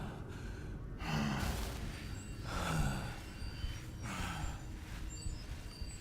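A video game character breathes heavily in slow, rhythmic gasping inhales and exhales, loud and close over a constant low rumbling game background.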